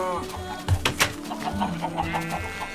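Chickens clucking in a pen in Minecraft, a series of short, close clucks and squawks in a loose rhythm, with a voice talking under them.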